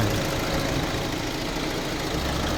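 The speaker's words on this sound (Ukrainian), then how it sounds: "Дивіться, як працює мотор." Engine of a 2018 Renault Master van, 125 kW and 170 hp, running steadily at idle with a dense, even rumble and no pauses, close and continuous throughout.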